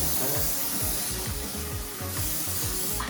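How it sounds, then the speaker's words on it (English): Cooking spray hisses steadily from a can onto a pan, in close, continuous bursts with faint clatter underneath. "You have to spray the corners like this."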